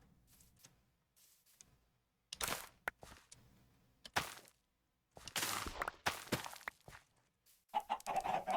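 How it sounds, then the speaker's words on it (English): Chickens cluck in short bursts in a video game, several separate clucks and squawks coming and going with quiet gaps between them, fairly close and clear. "Hey, chickens."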